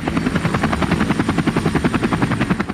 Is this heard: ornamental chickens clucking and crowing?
no